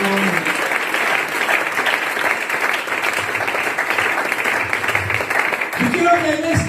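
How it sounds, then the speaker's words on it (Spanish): A Spanish-speaking church congregation claps in praise during a missionary's sermon, with loud sustained applause filling the hall and a few voices and tones rising near the end. "Demos aplauso al Señor, hermano, en esta hora."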